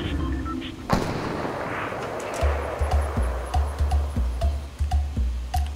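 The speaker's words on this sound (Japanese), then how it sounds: "今、俺っちを撃ったね" Gunfire in Fortnite: a single sharp shot, then a rapid series of loud rhythmic shots that grows steadier toward the end, over game background noise.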